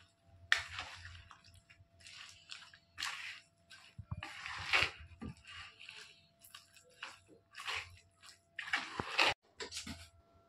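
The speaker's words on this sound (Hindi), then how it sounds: "थोड़ा थोड़ा पानी डालेंगे क्योंकि ज़्यादा गीला भी नहीं रखना पतला" Water being added bit by bit and mixed into a healthy breakfast batter: squelchy stirring and splashy bursts in uneven pulses, close by, with pauses between.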